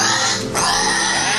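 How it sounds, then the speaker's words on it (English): A pig named Ophelia makes steady oinking, grunting sounds, close and fairly loud, continuing throughout with a brief dip near the middle. "a pig named Ophelia entertained the house guests"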